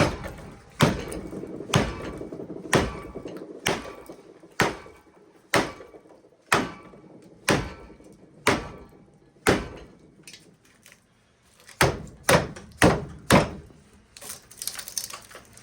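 Sharp, heavy hammer blows ring out at a steady pace, each a loud metallic impact, as a transformer core is knocked out by hand while clamped in a vise; after a short pause a quicker burst of strikes follows.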